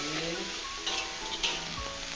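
Onions sizzling in a pan while being stirred for chicken in soy sauce, a steady close frying hiss with small scraping stir sounds, no talk.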